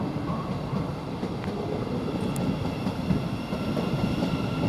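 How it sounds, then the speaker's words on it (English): A Thameslink train bound for Horsham pulls out of Peterborough station, a steady low rumble with faint rail clatter holding level throughout amid platform ambience, no talk. "this Thameslink is now going, which is going to Horsham"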